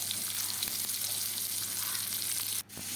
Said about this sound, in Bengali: আলুটা ভাজা হয়ে গেছে, এবার আমি পটলটাকেও ভেজে নেব